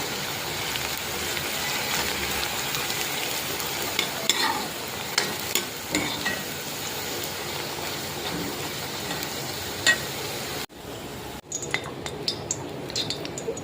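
Continuous sizzling of beetroot frying in coconut oil, punctuated by occasional scrapes and clinks of a utensil against the pan, with a brief pause near the end.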